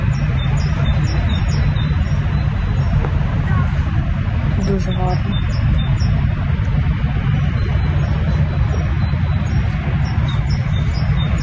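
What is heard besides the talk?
birds singing in the background outdoors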